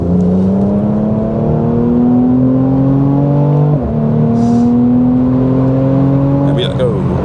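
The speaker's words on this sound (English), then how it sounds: "Oh, hear those pops at the back." A Mercedes C43 AMG in Sport Plus mode accelerates hard, its engine note climbing steadily through the gears with one clear upshift midway, then easing off near the end with a few faint crackles from the exhaust.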